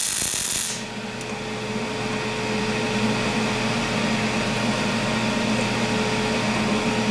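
A PrimeWeld 285 MIG welder lays a bead, giving a brief sharp burst at the strike and then a steady, even, close crackling hiss with a low electrical hum that runs alone without a break.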